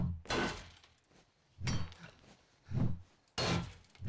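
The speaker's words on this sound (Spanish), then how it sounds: "este martillo se mete" A hammer strikes repeatedly in the survival video game 7 Days to Die: four loud, sharp impacts spaced roughly a second apart, each a short crunching thud with no talk over them.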